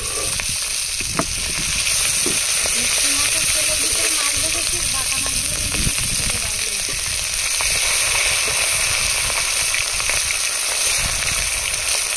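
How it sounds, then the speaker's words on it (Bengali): Bata fish frying in oil in a pan, giving a continuous loud sizzle and crackle with occasional spattering pops that last the full length, and there is no speech. "বাটা মাছগুলো এবার ভেজে নেব।"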